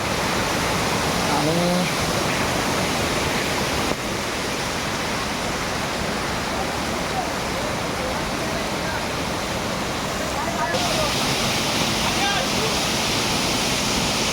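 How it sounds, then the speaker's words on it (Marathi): A small waterfall roars steadily and close by, an unbroken rush of falling water that fills the whole stretch. "हा आमचा छोटेसा धबधबा आहे"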